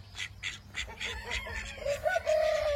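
Toulouse geese in a breeding pen give short nasal honks and clucking calls in quick succession, fairly close, then a longer rising call at the end.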